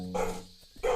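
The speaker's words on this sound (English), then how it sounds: "sorry, my dogs are going crazy" Pet dogs barking indoors in two loud bursts separated by a brief lull, close to the microphone with no talk.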